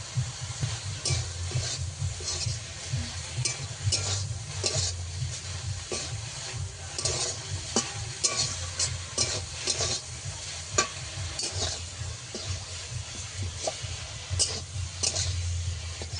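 Drumstick greens, their water nearly cooked off, are stirred in a pan: a long run of repeated scraping and rustling strokes over a constant soft sizzle, near and even in level, with no voices.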